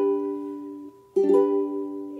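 A ukulele chord strummed once and left ringing, then strummed again with a brighter attack and allowed to sustain, close and clean with no talking.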